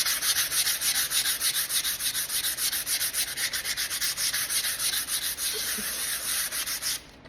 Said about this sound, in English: I'm going to take a piece of sandpaper